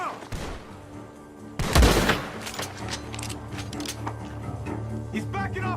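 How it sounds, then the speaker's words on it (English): Gunfire from a barn in the video game Red Dead Redemption 2: a sudden loud close shot, then repeated shots and clatter amid game ambience, with voices shouting in between. "The gunshots are coming from that barn!"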